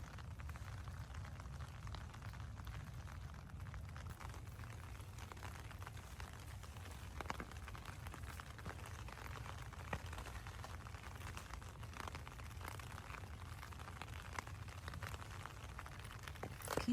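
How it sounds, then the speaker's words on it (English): Light rain on a rainy day in a Zone 10 garden falls in a soft, steady patter with faint scattered drips, low in level and continuous throughout. "Can you hear the rain?"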